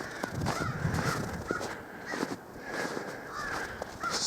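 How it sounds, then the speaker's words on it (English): Crows caw repeatedly in short harsh bursts, several calls spaced irregularly across an outdoor winter scene on an island park, moderately distant over faint background noise. "I don't like noisy ass birds."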